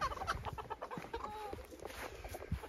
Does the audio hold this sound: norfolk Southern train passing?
no